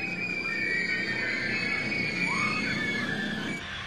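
Several people scream together in a sustained, loud chorus on a thrill ride, shrill voices overlapping and rising and falling with no talk.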